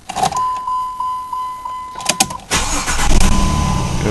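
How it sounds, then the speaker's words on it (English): A 2004 Jeep Liberty with the 3.7L engine cranks briefly after a steady chime and a few clicks, then catches and settles into a loud, close idle. "Now you want to start the vehicle."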